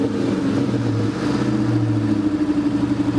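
Supercharged drag car revving hard at the start line, a steady loud engine drone with a faint belt-driven whine layered over it, held close and continuous.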